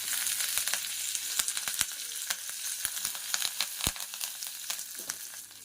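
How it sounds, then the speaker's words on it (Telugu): Chana dal, urad dal, fenugreek seeds, cumin and curry leaves dry roasting in a pan for peanut karam make a steady light crackle, dotted with frequent sharp ticks and stirring scrapes, no talk. "ఇలా లైట్గా వేపుకుందాం"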